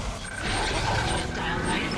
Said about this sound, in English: I don't like that beeping.